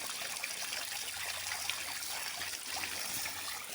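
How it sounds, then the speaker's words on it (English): A small waterfall in the backwoods gives a steady, even rush of splashing, trickling water, constant and fairly close with no other sounds. "pretty little waterfall."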